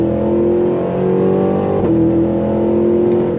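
A 2023 Cadillac Escalade V's V engine revs loud and close during a brake-held launch, a steady deep drone with a brief dip and rise partway through.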